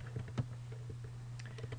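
A computer keyboard being tapped to type a search query, a handful of soft, scattered key clicks over a steady low hum.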